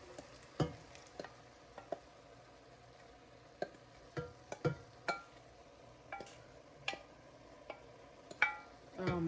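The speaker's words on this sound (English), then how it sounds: "I'm going to go ahead and add my sauce." Sauce is stirred into cooked ground beef in a pan, quiet sizzling broken by scattered sharp clicks of a utensil against the pan.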